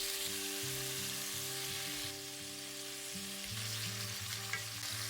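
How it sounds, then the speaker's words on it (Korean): Pork belly fries in a pan in a country-house kitchen, a constant dense sizzle running throughout, fairly faint, over a pulsing low electrical hum. "우선 팬에서 삼겹살이 잘 구워준다"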